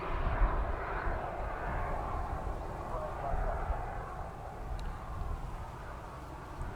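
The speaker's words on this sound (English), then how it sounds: "Dreamliner's lining up now." A Boeing Dreamliner airliner lines up on the runway at Manchester Airport, its engines giving a steady, broad roar that holds at a constant moderate level throughout.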